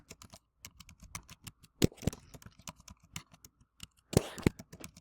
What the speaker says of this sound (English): I'm going to go ahead and start typing in the days of the week.